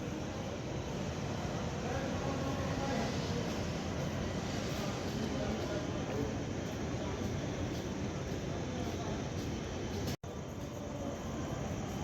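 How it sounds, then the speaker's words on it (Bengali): Dankuni railway station at night, a continuous broad rumble of rail traffic and station ambience at moderate level, steady throughout with one brief dropout near the end. "চলো এখন আমি ডানকুনি স্টেশনটা তোমাদের একটু দেখিয়ে নিই রাত্রিবেলা।"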